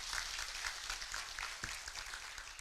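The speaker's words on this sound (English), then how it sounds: "Prof another round of applause." Audience applause at a Universal Health Coverage collaborative meeting, a steady broadband clatter of many hands clapping throughout, fairly faint and without speech.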